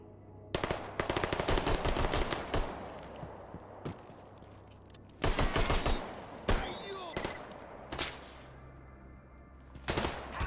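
Rapid bursts of automatic gunfire from a video game shooter, loud and close, firing in several long volleys separated by short pauses, with no talking.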